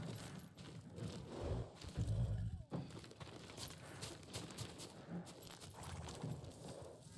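Horse hooves clop along in the video game Ghost of Tsushima, a faint, steady run of soft thuds under a quiet background, ending in a sharp hit.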